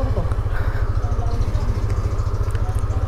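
A motorcycle engine runs with a steady, throbbing low pulse close by on a ride near Dipaculao, Aurora, while someone talks over it.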